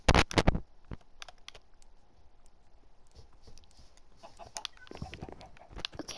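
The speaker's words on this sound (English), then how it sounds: "oh, chicken." Video game chicken clucking in short bursts, loud at the start and again near the end, with quiet gaps between and no talking.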